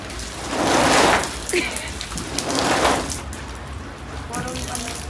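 Rain-like patter of sprayed water falling in two louder bursts, with a faint thump in the background.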